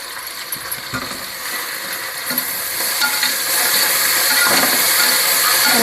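Onions sautéing in a pan with mint and coriander for mutton biryani, a steady close sizzle and hiss with scattered stirring scrapes, gradually growing louder and more intense.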